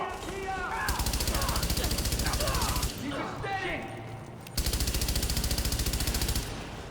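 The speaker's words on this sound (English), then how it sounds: "And some shooting." Rapid machine-gun bursts from an online shooter game, with steady rhythmic fire in two long stretches separated by a short lull, loud and near, mixed with game effects and voices talking over them.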